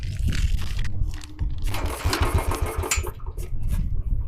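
A Royal Enfield motorcycle engine with a carburettor flange air leak sputters and starts up close, running roughly with uneven thumping and a hissing, airy noise over it.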